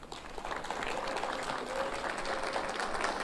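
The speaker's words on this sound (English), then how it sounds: "I think that alone deserves a round of applause" Applause at a community college board of trustees meeting, a modest room of people clapping steadily at moderate volume, rising slightly after the first moment and continuing evenly.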